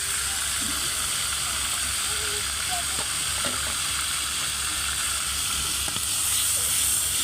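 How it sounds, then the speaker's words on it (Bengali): Onion paste frying in oil in a pan on the stove, a steady broad sizzle and hiss running throughout with a few faint clinks, no talking. "পেঁয়াজটাকে ভেজে নিচ্ছি ভালোভাবে"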